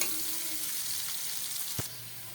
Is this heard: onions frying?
yes